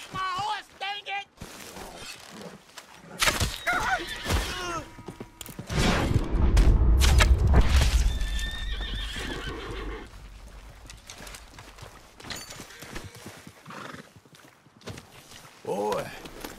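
A horse whinnies loudly up close and its hooves clip-clop, with shouting voices and scuffling around it.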